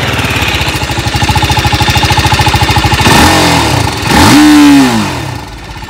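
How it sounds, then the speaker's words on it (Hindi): A 2024 TVS Apache RTR 310 motorcycle idles with a fast, even exhaust thump, then gets two sharp throttle blips that rise and fall, loud and close with no voices. "और एक बार इसका एग्जॉस्ट नोट भी सुन लेते कि कैसा साउंड करता है।"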